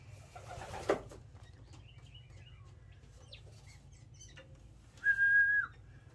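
A single steady pigeon training whistle blast sounds near the end, clear against quiet outdoor ambience, with a brief thump and faint bird sounds earlier.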